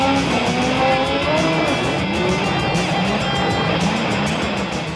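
Specially built pickup trucks racing on a short, bumpy stadium track, a loud, continuous roar of engines with shifting pitch from several vehicles at once, steady throughout with no talk.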